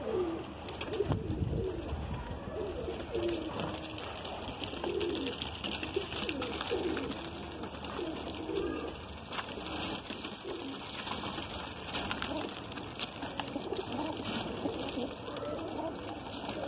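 Madrasi pigeons in a loft cooing continuously, low murmuring coos overlapping at moderate volume over a steady background hum.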